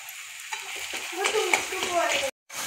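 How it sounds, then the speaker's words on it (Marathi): Chopped tomato is sautéed with red chilli powder, salt and spice masala in a pan for a masvadi curry, giving a close sizzle and scraping stirs, then a brief cut to silence before the sizzling resumes. "व्यवस्थित टोमॅटो मसाल्यामध्ये परतवून घ्यायचा आहे."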